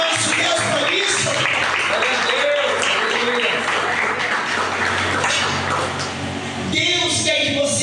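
Church congregation applauding, a dense continuous wash of clapping that fills the whole clip at steady loudness, with a brief dip near the end before it swells again.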